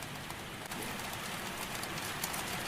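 Steady rain falls on a bookshop through the night, heard as a dense, even hiss with scattered droplet patter, close and constant, with no voices.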